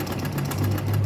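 Sewing machine stitching a makeup box bag: a brief, steady, close mechanical whir with a fast, even pulsing rhythm.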